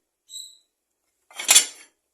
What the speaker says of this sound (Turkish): Şimdi doğruyorum.